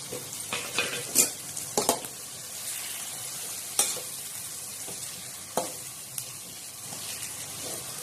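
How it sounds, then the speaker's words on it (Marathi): Capsicum stir-fried in a hot pan sizzles steadily up close, broken by a few sharp spatula scrapes and clatters against the pan, with no voices. "आता आपण शिमला मिरची त्याच्यावर टाकायची आहे"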